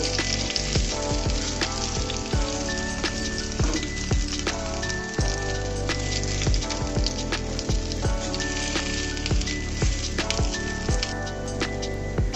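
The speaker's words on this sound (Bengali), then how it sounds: "বেগুনগুলোকে আমি সুন্দর করে বসিয়ে দিয়েছি। উল্টিয়ে পাল্টিয়ে ভেজে নিব।" Eggplant slices frying in a pan with eggs nearby, giving a steady, loud sizzle with crackling pops throughout and faint utensil clinks, with no talking.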